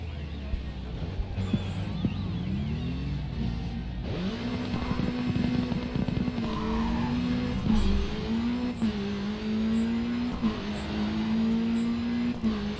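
Race car lapping the Hong Kong track in the Grid 2 video game, a steady, moderately loud engine drone with pitch sweeps through gear changes and brief dips, no talking.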